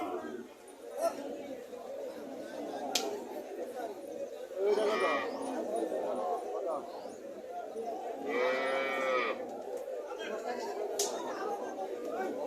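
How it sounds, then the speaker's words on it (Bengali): A local cow at a busy cattle market in Cumilla moos twice in long, drawn-out calls, one near the middle and one later, over constant crowd chatter and people talking nearby. "হাটে কাস্টমারকে দেখাইতেছে গাভিটা"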